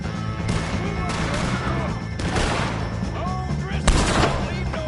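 Red Dead Redemption 2 gunfire against O'Driscoll gang members: repeated shots and loud cracks ring out over constant battle noise and shouting voices, with one sharp blast standing out near the end.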